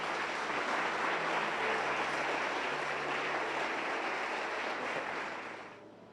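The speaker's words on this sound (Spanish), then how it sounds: "Dale un aplauso fuerte al Señor." A church congregation claps for the Lord, a loud, sustained roar of applause that holds steady for about five seconds before fading away.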